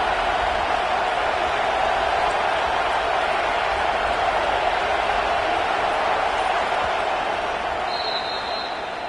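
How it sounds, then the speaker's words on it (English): A loud stadium crowd at a college football game between Clemson and the Huskies roars steadily and continuously on a big third down, a dense, unbroken wash of cheering. "Big 3rd down as the crowd gets behind this defense."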